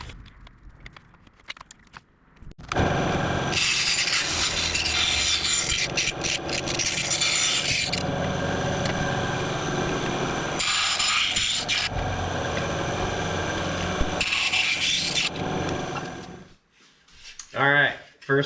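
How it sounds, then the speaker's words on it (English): A bandsaw with a fence cutting metal pieces for a Van's RV-7A airplane fuselage makes loud, sustained, grinding cuts in two long passes, with short gaps and quieter handling noise between and after. "The bandsaw with a little fence, if you will, made pretty quick work of that."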